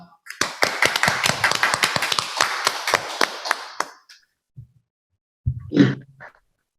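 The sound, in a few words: audience applause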